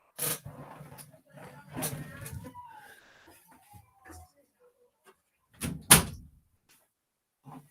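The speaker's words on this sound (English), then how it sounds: "Closed my door." A door shuts with a single sharp thud partway through, in a quiet room, with a voice talking before it.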